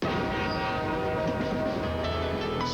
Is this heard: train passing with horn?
yes